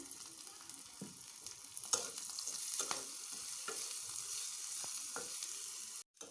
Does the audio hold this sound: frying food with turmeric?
yes